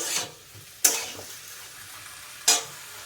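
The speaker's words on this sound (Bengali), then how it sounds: "দিয়ে ভালো করে নাড়াচাড়া দিয়ে দেবো।" Vegetables with pepper and ginger paste are stirred in a pan, giving a soft ongoing sizzle broken by three sharp, bright bursts of frying hiss as the food is turned, with no talking.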